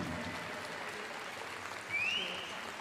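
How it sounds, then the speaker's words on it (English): Crowd applause at Crufts dog show for the East Anglian Staffordshire Bull Terrier Display Team, a steady broadband wash of clapping across a large arena, moderately distant, swelling slightly near the end. "can we have a massive round of applause for the East Anglian Staffordshire Bull Terrier Display Team?"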